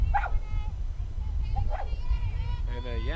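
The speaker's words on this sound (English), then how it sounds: "a yappy dog doing what a yappy dog does best. Just outside." A small yappy dog barks outside the grounds of a softball game at Grand Rec Park, giving two or three sharp, high yips spread over a few seconds, fairly distant above a steady low rumble of outdoor background noise.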